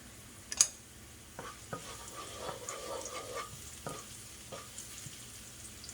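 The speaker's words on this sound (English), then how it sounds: "I see that garlic turn into a little golden brown now." Garlic frying in oil until golden brown makes a quiet, soft sizzle. A few sharp clicks and scrapes from stirring stand out over it, and no one talks.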